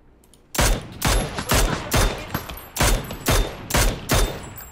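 Gunfire in PUBG: a rapid series of about ten loud, sharp shots in quick bursts, close and punchy, with no voices over them.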